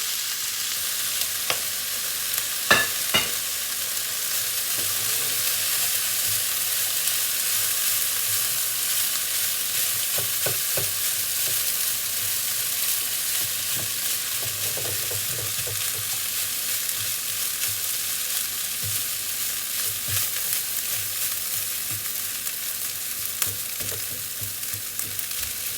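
Leftover cooked rice with meat frying in a pan, fried-rice style, a steady close sizzle with occasional scrapes and clicks of stirring, no voices.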